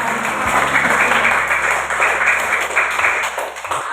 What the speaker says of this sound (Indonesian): Tepuk tangan buat pasukan dari Rehan